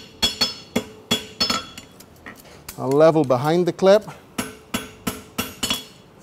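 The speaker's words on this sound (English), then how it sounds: "we can take our clip out up to a point using the corner of the hammer" Hammer strikes on a horseshoe as the clip is drawn out with the back corner of the hammer on a St. Croix Advantage shoe, a dozen sharp metallic taps in a loose rhythm, with someone speaking in the middle.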